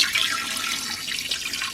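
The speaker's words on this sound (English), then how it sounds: "I'm gonna put some water" Water pours steadily from a tap into a pot over cleaned chicken, a continuous close splashing hiss that runs the whole time without pause.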